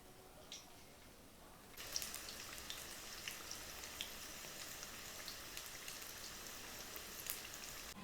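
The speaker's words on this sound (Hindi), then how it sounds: "इस तरह से आपने एक एक स्ट्रिप करके इसको फ्राई के लिए डाल देना है।" Strips of Dhaka chicken dropped one by one into hot oil in a kadhai: a soft, steady sizzle and crackle that starts abruptly and continues evenly, faint and close, with no talk.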